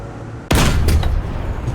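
A T-34 1940 tank cannon fires in War Thunder: silence, then one sudden loud close blast followed by a heavy rumbling, crackling tail that slowly fades.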